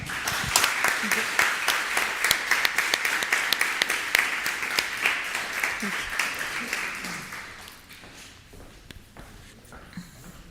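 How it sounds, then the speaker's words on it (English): Audience applause for a speaker closing a talk on real estate development: dense, steady clapping close by for about seven seconds, then fading to a few scattered claps and faint voices. "So I think we can end with a big round of applause for our speaker."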